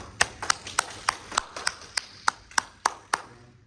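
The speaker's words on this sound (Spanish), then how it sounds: "Muchas gracias, un aplauso" At a national research seminar, scattered clapping comes as about a dozen distinct, fairly evenly spaced claps, sharp and close, from only a few hands rather than a full crowd.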